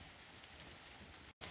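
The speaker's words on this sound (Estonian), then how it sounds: "Vihma hakkas nii kõvasti sadama" Heavy rain pours steadily in a bog forest, a dense, even hiss of drops with a few sharper splats, briefly cut off near the end before resuming.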